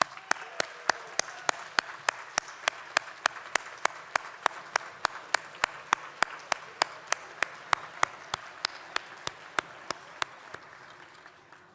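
A standing crowd at the opening of the Icelandic municipalities' national assembly claps together in a steady rhythmic beat, sharp and regular, about three claps a second, fading slightly toward the end.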